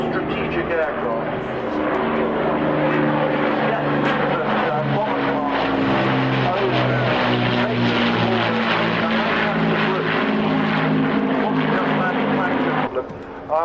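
An Avro Lancaster bomber flies at an airshow, its four piston engines sending out a steady, loud, droning rumble with a strong low hum that stays constant throughout and fades slightly at the very end.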